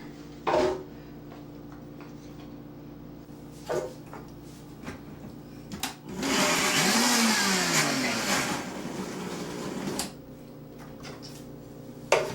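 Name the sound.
blender chopping onion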